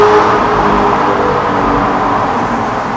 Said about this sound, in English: this exhaust is fucking crazy, man